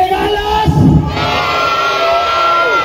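A crowd of children at an outdoor festive gathering with a clown in Putla Villa de Guerrero, Oaxaca, cheers and shouts loudly, excited overlapping voices rising in a short burst and continuing strongly.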